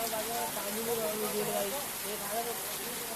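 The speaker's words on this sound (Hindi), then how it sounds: "फिलहाल अब भी बारिश जारी है।" Steady rain falling on a town in Kailaras tehsil, a dense, even hiss of drops on surfaces, with a voice talking over the downpour throughout.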